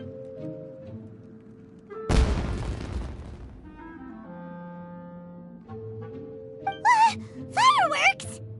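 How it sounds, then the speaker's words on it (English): A single loud burst of fireworks bangs out in Genshin Impact amid game music, with a broad crackling blast that trails off over a couple of seconds, followed later by short voice sounds. "Was that an explosion? It sounded like fireworks."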